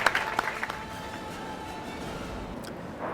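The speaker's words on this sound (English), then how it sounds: "Let's give the candidates a round of applause." An audience at student presidential election hustings claps for the candidates in a short burst of applause that starts sharply and quickly thins into a faint room wash.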